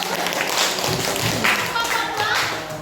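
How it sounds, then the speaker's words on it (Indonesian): Classroom students clapping for a group of classmates, a short burst of close, uneven hand claps from a small group with some thumps and voices mixed in. "Kita beri tepuk tangan ya untuk kelompok 1."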